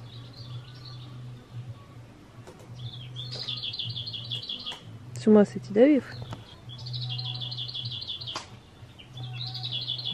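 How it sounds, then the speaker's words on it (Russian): Small birds sing outdoors at a countryside dacha, bright repeated chirping phrases running through the clip at moderate distance, with someone speaking briefly in the middle and a low steady hum underneath. "Клёво ли поёт птичка?"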